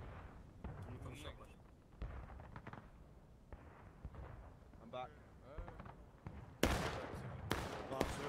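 Cannon and artillery fire in War of Rights, a Civil War era game, heard as a string of muffled distant booms under commentary, then two louder, sharper blasts toward the end.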